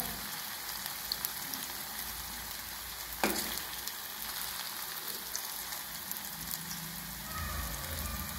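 Coriander vadi shallow-frying in a little oil give off a soft, steady sizzle with faint crackles and a brief clunk partway through, quiet and continuous with no speech.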